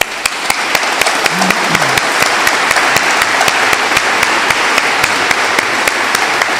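Applause at a French debate between Régis Debray and Olivier Abel: a steady, dense wash of clapping with sharp individual claps standing out, continuous for several seconds, with a brief voice low underneath.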